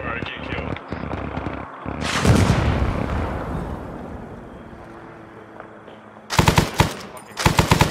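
Gunfire in the military game Arma 3: loud bursts of automatic weapon fire, a long rumbling blast that fades out, then two sharp rapid volleys near the end, with players talking over parts of it.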